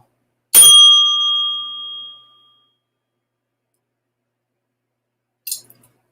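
A bell dings once sharply, bright and loud, and rings out for about a second and a half. A brief faint second tap follows several seconds later in otherwise silent surroundings.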